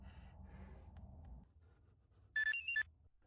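A short phone text-message alert chimes inside a night survival video game, a bright two-part tone ringing out loudly after a stretch of low ambient rumble.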